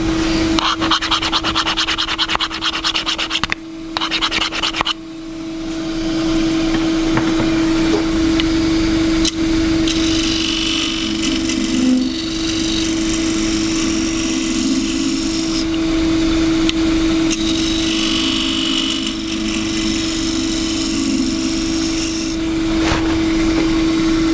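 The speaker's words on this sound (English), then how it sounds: "This stuff does scrape very nicely." A tool scrapes a gidgee wood bowl turning on a lathe, a steady rasping hiss over the motor's constant hum, with brief pauses and shifts as the cut moves up the side.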